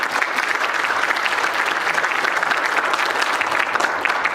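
Sustained, dense audience applause fills a government registry launch event, a steady wash of many hands clapping close and loud for the whole stretch, with no talking over it.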